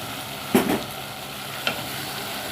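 Okra and tomato sautéed together in a pan, giving a soft continuous sizzle with two brief scraping stirs of a utensil, close by and with no talk.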